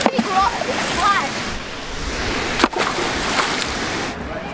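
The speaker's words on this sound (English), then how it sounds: "It makes such a big splash." A waterfall splashes into a lake with a steady rushing, broadband spray close by, while a person talks briefly over the roar.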